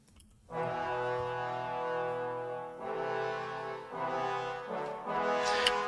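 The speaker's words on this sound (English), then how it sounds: "I've got the outline of the harmony on the trombones." Orchestral trombones from a virtual instrument library sustain harmony chords in the mid to upper range, a few long swelling phrases played alone with no talk.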